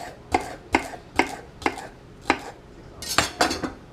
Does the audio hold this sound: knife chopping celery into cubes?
yes